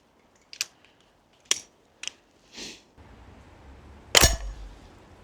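A Daystate Blackwolf air rifle being loaded and cocked gives a series of sharp mechanical clicks and a soft slide, then one louder metallic clack over a low hum. No one speaks.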